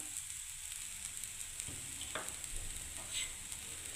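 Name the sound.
semolina being stirred and fried in a pan for upma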